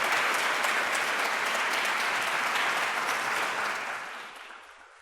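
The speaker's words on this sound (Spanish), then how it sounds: "Les pido un aplauso para Ana Karina Vázquez y Marcos Saavedra" Audience at a museum forum applauding the two hosts, a dense steady burst of many hands clapping that fades away over the final second.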